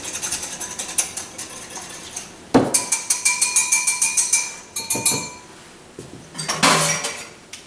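A single egg and melted, cooled butter are whisked in a mixing bowl. After a quiet start comes a close, rapid run of rhythmic metallic clinks against the bowl, then a brief pause and a final burst, with no talking.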